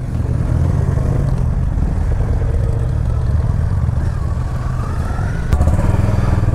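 A motorbike engine runs steadily up close in a hill village, a dense, even rumble that holds for the whole stretch with a slight surge near the end, and no one speaks.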